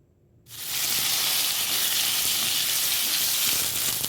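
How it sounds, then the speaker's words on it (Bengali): Taro pieces hit hot oil tempered with nigella seeds in a wok, bursting into a loud, steady sizzle after a brief quiet start and frying on continuously with no talk. "এবার কালো জিরে ফোড়ন দিয়ে এর মধ্যে কচুটা ঢেলে দেবো"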